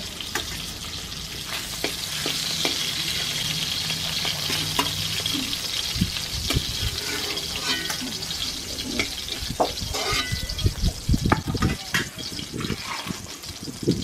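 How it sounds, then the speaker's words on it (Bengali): Hilsa fish fry in oil with a continuous close sizzle, punctuated by clattering and scraping as pieces are turned and lifted from the pan, growing busier toward the end. "মাছগুলো হালকা করে আমি ভেজে নিয়েছি, এবার তুলে নিচ্ছি।"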